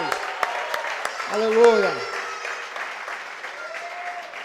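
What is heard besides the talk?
church congregation applauding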